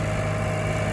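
A Farmtrac 42 Promax tractor engine runs at a steady idle close by, a continuous low throb with no voices.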